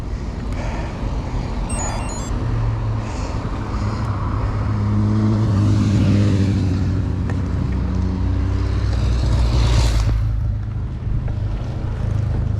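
Cars pass on a road near a railway line, a low engine drone with rising and fading whooshes and wind buffeting the microphone, continuous and fairly loud with no voices.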